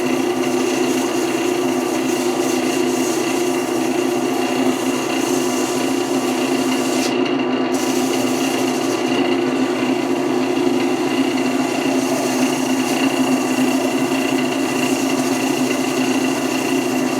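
Sandpaper rubs against a wooden piece spinning on a wood lathe, giving a continuous steady whir and hiss with a constant motor hum and a brief dip partway through, no talking.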